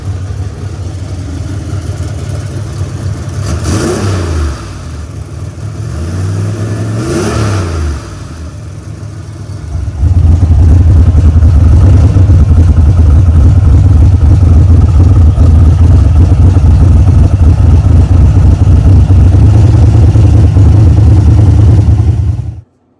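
A 1979 Chevy Camaro V8 running on only two barrels of its carburetor gets two rising revs, then settles into a loud, steady, rumbling idle recorded close up.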